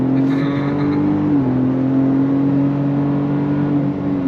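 A 2025 Ford Ranger Raptor midsize performance truck pulls hard on throttle out of a turn, its engine a steady loud drone from inside the cab that climbs slightly in pitch.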